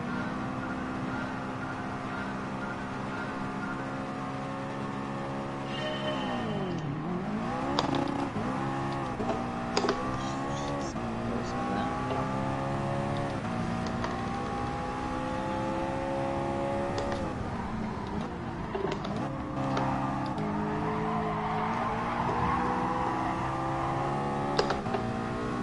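McLaren and Ferrari sports cars race in a video game, with high engines revving and shifting through gears under a continuous roar, pitch dipping and climbing.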